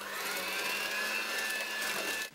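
An electric mixer whirs steadily while beating a lemon juice and zest mixture for Easter koulourakia dough, a continuous high-pitched motor whine at moderate level throughout with no talking.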